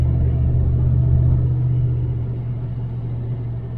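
A 1978 Chevrolet El Camino SS with a 305 four-barrel V8 and headers cruises along the road, its low engine rumble steady and close, easing slightly toward the end.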